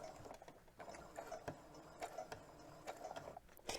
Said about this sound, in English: Let's put our presser foot down and I'm going to sew forward a few steps.